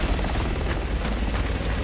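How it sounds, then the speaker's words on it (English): A helicopter in the video game Resident Evil 6 thrums nearby as it pulls back, a loud steady rotor wash with faint rhythmic blade chop under the noise. "The chopper's pulling back!"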